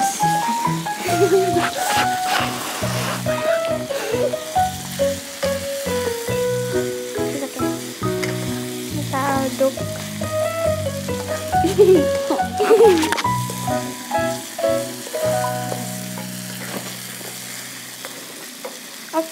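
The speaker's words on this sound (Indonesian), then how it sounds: "Kita aduk sebentar lagi." Capcay vegetables being stirred and fried in a hot pan, a steady sizzle with scraping stirs throughout, while a voice talks over the cooking.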